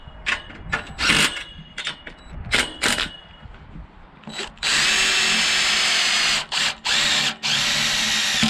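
A power drill drives in bursts while a greenhouse is built on a farm: short whirring pulls at first, then a long loud continuous run broken by quick stops, with no one talking over it.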